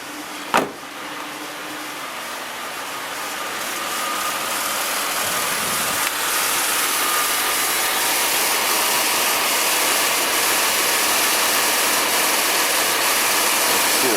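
A 2004 Pontiac Montana with a 3.4 engine idles while warming up after a water pump replacement, a steady broadband hum after a brief click at the start, rising slightly and holding even throughout.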